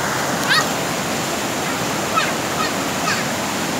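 A big waterfall pours into a deep drop with a constant loud rushing roar, while a few short, sharp bird calls break through it at intervals.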